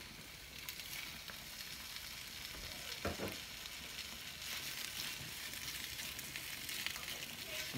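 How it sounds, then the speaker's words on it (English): Sausages browning in a pan, searing for seafood gumbo, give off a steady, fairly loud sizzle and crackle throughout, with a brief clatter near the middle and no talking. "I'm gonna go ahead and brown my sausages a little bit"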